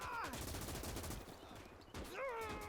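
An MG42 machine gun firing in the video game Gates of Hell, dense rapid bursts of gunfire under a voice that cuts in and out.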